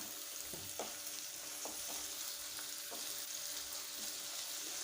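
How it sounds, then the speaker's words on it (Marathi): Onion sautés quietly in a pan for stuffed brinjal, a soft continuous frying sizzle broken by light, regular scraping strokes of stirring. "यानंतर एक कांदा यात टाकलेला आहे कांदा पण छान परतून घ्यायचा"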